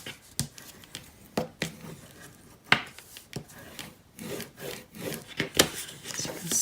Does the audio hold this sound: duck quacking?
no